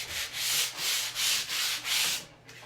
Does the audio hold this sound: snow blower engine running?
no